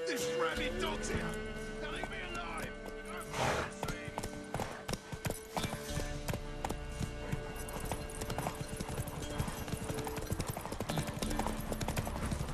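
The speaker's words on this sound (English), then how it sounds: "Horses!" Horses gallop in The Witcher 3: Wild Hunt on PS5, with a steady, close clip-clop of hooves and an occasional whinny, set among game music and effects while characters talk over it.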